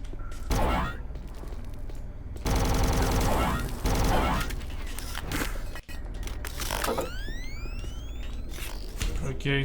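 Enemy plasma gun fire in Doom 3 crackles and whirs in repeated bursts amid mechanical clanks and rising electronic tones, loud and close, with someone talking over it.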